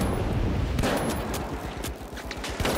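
Rapid gunfire from a firefight in The Finals, with a Model 1887 lever-action shotgun in play: dense, loud overlapping shots and bursts that continue steadily for nearly three seconds.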